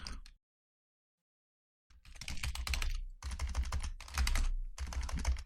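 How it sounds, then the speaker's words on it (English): Typing on a computer keyboard while filling in a software installer form, with dense bursts of close, quick keystrokes separated by a brief pause. "if I can type"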